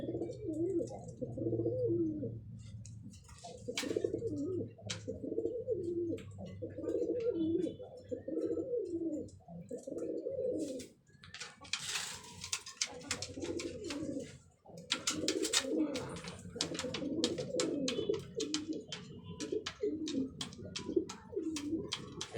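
Pigeons on a small pigeon farm, with breeding pairs and nests with eggs, coo in close, repeated rhythmic bursts. Occasional clicks and rustles come through, and someone speaks softly in places.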